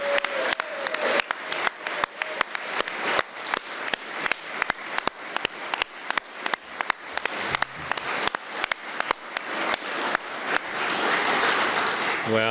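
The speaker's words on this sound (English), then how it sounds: "Let's give a final big round of applause to our 2023 CHM Fellows." An audience at an awards ceremony gives a round of applause: a dense run of sharp, rapid claps at a moderate level that swells into a fuller burst near the end.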